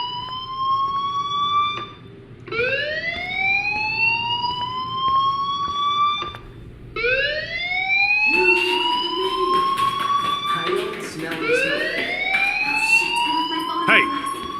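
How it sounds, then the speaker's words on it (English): A fire alarm in the video game Life Is Strange sounds as a loud, repeated rising wail, each sweep climbing in pitch, then pausing and starting again, several cycles in a row. "Hey, do you hear that fire alarm?"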